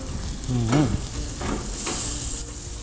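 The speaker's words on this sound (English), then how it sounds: "So we sear it on all sides." Pork belly sears in a hot pan as the meat is turned and stirred, giving a steady close sizzle with a few scraping movements and no talk.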